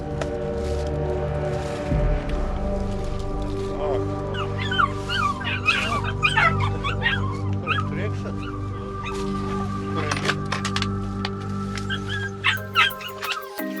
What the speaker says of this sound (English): The sound of barking instantly lets the officers know that the tip-off was accurate.